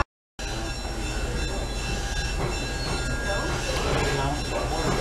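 After a brief silence, a train rumbles steadily along the rails in Monticello, Illinois, with rhythmic wheel clatter and a faint high squeal over the constant roar.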